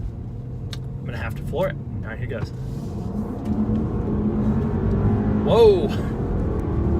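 A supercharged 2018 Range Rover SUV is floored from inside the cabin, its engine rumble building steadily to a loud full-throttle roar, with a man's brief exclamations over it.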